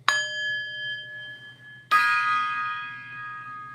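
A gong or singing bowl is struck twice, about two seconds apart. Each strike rings out into a long, clear, shimmering sustain. The second hit is brighter and louder, and no voices are heard.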